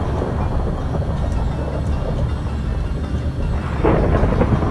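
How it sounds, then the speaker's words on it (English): Thunder from a lightning storm in Minecraft's FTB Infinity modpack rolls as a continuous low, loud rumble with a swelling burst near the end, no voices over it. "It's almost midnight, and we've got a lightning storm."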